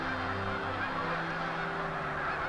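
Geese honk constantly from a flock gathering to feed at a baited capture area, a dense overlapping chorus of calls at middle distance.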